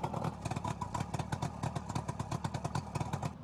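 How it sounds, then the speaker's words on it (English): A boat outboard engine runs on a hose-fed fresh-water test, chugging at a fast, even idle with regular rapid pulses and a rattly mechanical clatter, close and steady throughout. "Test your outboard using a hose and fresh water for cooling."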